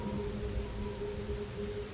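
Steady artificial rainfall in Master Detective Archives: Rain Code patters continuously at low volume with a faint low hum beneath, no voices.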